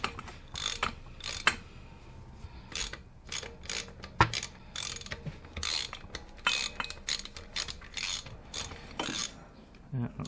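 A ratchet wrench working a header nut loose on a car exhaust manifold, with rapid bursts of close, crisp clicking that stop and start in uneven runs, alone with no talking.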